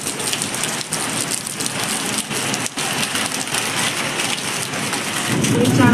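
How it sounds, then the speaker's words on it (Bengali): A kalbaisakhi nor'wester brings heavy rain that roars loud and constant, pounding on surfaces. Deep thunder rumbles under the downpour, and the storm swells louder toward the end. "এই মেঘ গজরাচ্ছে, প্রচুর বৃষ্টি হচ্ছে"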